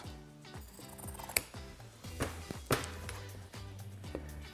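Scissors cut through fabric to trim off a selvage edge, a series of close, soft snips and metallic clicks spaced irregularly over a quiet room background, with no talking.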